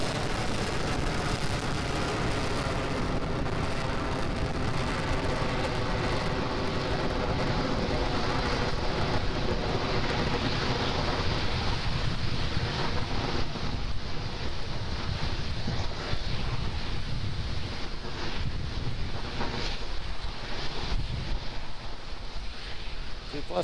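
A SpaceX Falcon 9 rocket climbs after liftoff as its Merlin 1D engines throttle down ahead of maximum dynamic pressure. It makes a continuous, broad, rumbling roar heard from a distance that stays steady throughout with no clear voices.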